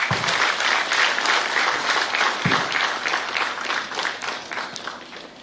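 A sustained round of applause from the audience at the Brick Housing Initiative commissioning ceremony in Zambia, dense and steady clapping that carries through the whole stretch with no voices over it.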